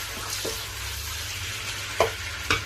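Chicken pieces frying in a karahi for a hara masala chicken karahi, giving a steady close sizzle with a few sharper spits and pops, alone without talk.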